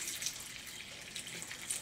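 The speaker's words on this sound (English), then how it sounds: "put extra water at the bottom" Water is poured into the bottom of a seed-starting tray, a soft, continuous close trickle and splash with no talking.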